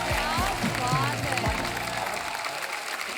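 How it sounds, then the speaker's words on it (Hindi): Applause from a studio audience at a television comedy show, heard briefly and moderately loud, mixed with background music or voices before it tapers off. "तालियां मेरे भाई के लिए।"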